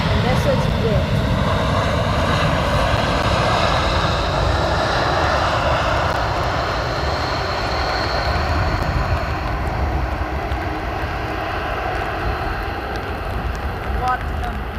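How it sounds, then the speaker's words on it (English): An Emirates Airbus A380 arriving from Dubai touches down at Schiphol, its engines a loud, sustained roar of rolling thrust that slowly eases over the span. "And there you have the beautiful touchdown from the A380 coming in from Dubai"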